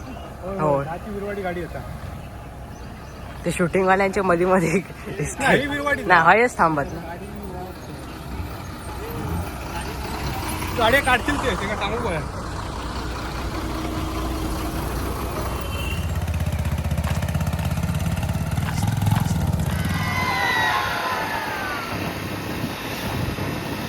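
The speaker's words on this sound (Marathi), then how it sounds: "आम्ही चलतो टू व्हीलरने बाकी टेम्पो ने येते" A two-wheeler and a tempo drive along a road, their engines rumbling and passing nearby, with people talking over the traffic at times and a steady low engine drone toward the end.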